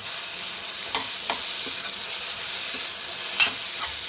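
Soya manchurian mixture is stirred and broken up in a hot pan, with continuous sizzling and a few soft scraping strokes.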